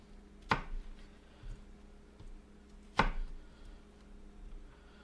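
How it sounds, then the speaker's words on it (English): A knife chopping onions on a cutting board for chicken noodle soup: two sharp, isolated chops about two and a half seconds apart, close and fairly quiet, with no talking. "I'm bad at cutting onions."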